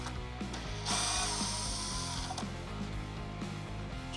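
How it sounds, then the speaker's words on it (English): A Phillips screwdriver turns out the lower screw on a Harley-Davidson Low Rider ST LED vent turn signal, giving a steady close run of small ratcheting clicks and metallic scraping with no talk. "You'll take your Phillips screwdriver now, and we're gonna remove this lower screw."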